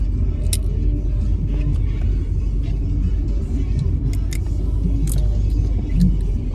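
Steady low rumble inside a moving car stuck in slow traffic, a continuous dense drone with faint higher clicks and rustles scattered over it.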